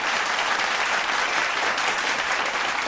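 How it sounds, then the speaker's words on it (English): Podcast hosts clap in a studio, a brief burst of close, continuous applause with no voices over it. "We're going to clap that up."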